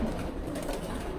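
Caged pigeons coo in a short, close burst, soft throaty calls at a pigeon keeper's loft.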